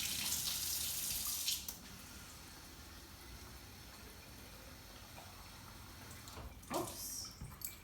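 Water runs from a kitchen sink tap in a steady, soft hiss, stopping after a couple of seconds and followed by faint handling clatter near the end.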